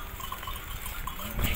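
Sheep and lambs of a flock in Esiroğlu, soft scattered bleats and a faint clinking bell over steady hoof and rustling noise, growing slightly louder at the end.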